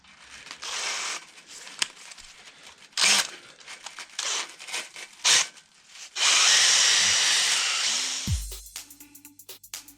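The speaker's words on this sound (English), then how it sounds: "Got the drill on a low speed." A power drill on low speed spins a cylinder honing tool in short bursts with scraping and rubbing, then runs steadily for a couple of seconds before winding down, during a Z20LET engine rebuild.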